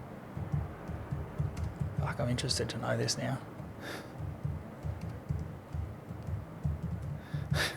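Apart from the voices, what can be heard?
typing on a loud computer keyboard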